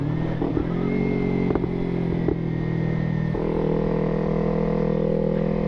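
A 2015 Kawasaki Ninja 300 carrying a heavy rider accelerates onto the I-95 highway, its engine steady and close with pitch steps between gear shifts and no talking.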